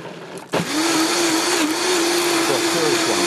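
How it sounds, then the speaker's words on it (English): A Vitamix blender purees green custard with eggs, starting with a sharp click and then a steady loud high-speed whir that holds its pitch throughout. "so that's a Vitamix"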